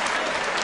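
Seated crowd of about 1,400 applauding loudly at the 2010 Darts World Championship semi final, a dense, steady wash of clapping filling the whole moment without a break.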